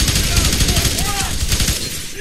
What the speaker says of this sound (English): I'm using my SMG because I want to save ammo